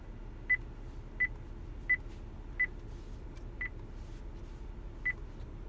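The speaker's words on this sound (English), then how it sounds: "I'm going to use the bottom touchscreen so I can type in the city" Keys tapped on a car navigation touchscreen (ODMD 2.0) to enter a city name, each press giving a short, clean electronic beep, six in all at a steady, unhurried pace over a quiet cabin hum.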